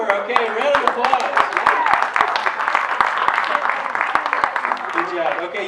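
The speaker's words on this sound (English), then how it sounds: "round of applause" A room full of people applauds, with dense, steady clapping that runs loud and continuous throughout while a voice talks over it.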